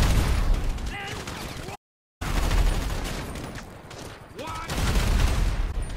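Gunfire in Grand Theft Auto V, dense overlapping shots and bursts forming a loud, sustained fusillade with a short silent gap partway through, mixed with game noise and a voice talking over it.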